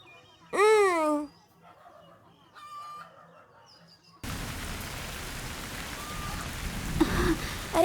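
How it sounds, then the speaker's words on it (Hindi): Steady rain falling across the second half, a dense even hiss that begins abruptly after rooster crowing and clucking earlier, with faint voices under it. "अरे बारिश हो रही है"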